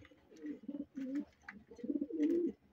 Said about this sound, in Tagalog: Ayan natin mga ibon, kalapatids.